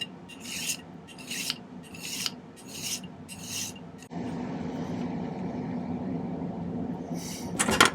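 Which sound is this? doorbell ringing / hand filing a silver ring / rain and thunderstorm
hand filing a silver ring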